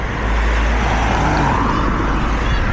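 A car driving along the road near the Bascule Bridge in Lowestoft, its steady tyre roar and engine hum close and loud, mixed with wind, no speech heard.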